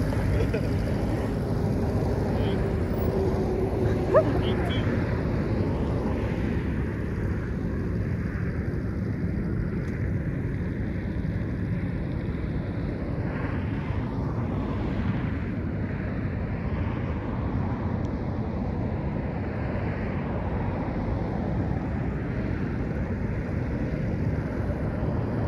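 A motorcycle engine straining in first gear gives a steady, loud, low droning rumble for the whole stretch, mixed with wind buffeting on the microphone.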